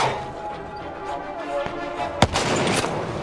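Battlefield V combat in North Africa: a dense wash of distant gunfire with a sharp close blast midway, followed by rumbling echoes.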